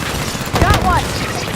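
Gunfire crackles in the Halo 5 single-player campaign, a short loud burst of shots and impacts mixed with battle noise and in-game voices.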